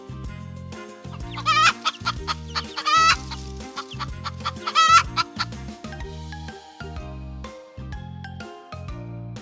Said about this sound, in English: Hens make the cluck-cluck sound.